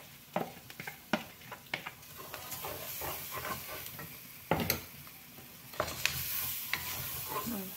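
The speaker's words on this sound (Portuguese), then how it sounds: "Vou colocar arroz." Rice sautés in a pan, giving a soft steady sizzle with repeated scraping and stirring clicks from a utensil, close but fairly quiet, with no talk.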